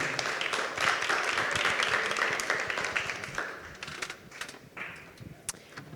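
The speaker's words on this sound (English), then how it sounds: "Let's hear a round of applause." Audience at a startup showcase conference applauds, a full burst of clapping that swells early, then thins and fades into scattered individual claps toward the end.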